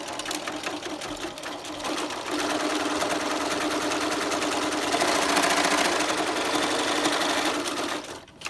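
Sewing machine stitching a pleat on a cloth face mask, a steady rapid mechanical whir and needle chatter running close and continuous for several seconds, growing slightly louder midway before stopping at the end.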